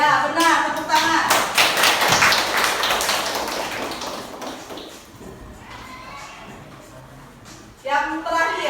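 Hands clapping in a classroom lesson on dice probability, a burst of quick claps and taps near the start that fades over several seconds, with a teacher's voice speaking over parts of it.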